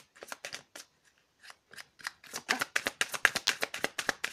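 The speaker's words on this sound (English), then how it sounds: "Cards didn't want to come apart." Tarot cards are shuffled by hand in a run of crisp flicking riffles that start sparse and grow faster and louder toward the end.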